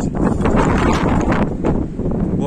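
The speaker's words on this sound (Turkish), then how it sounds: "Rüzgar bayağı şiddetlendi" Strong wind blowing outdoors, a loud, steady roar buffeting the microphone with rushing gusts throughout and no voices.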